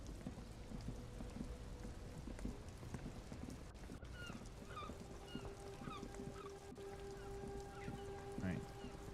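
In Disco Elysium, a rainy city street holds a constant low wash of rain, with scattered knocks and faint bird-like calls popping up over the steady downpour.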